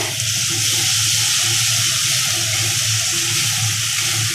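Water swirled around a mixer jar to rinse out leftover poppy seed paste, then poured into a pan for rui posto curry: a steady, continuous watery rush with a low hum underneath, no talking.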